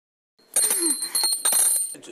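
A handheld bell rings in a Marathi comedy serial scene, starting after a short silence with bright metallic rings in several bursts, loud and close, and no talk over it.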